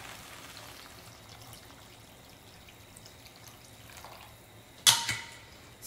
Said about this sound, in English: now we add some warm water